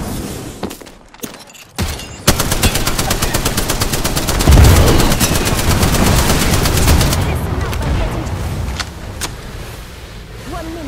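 Rapid automatic gunfire in a video game rattles continuously for several seconds, loud and sustained, with brief earlier shots and game sounds around it.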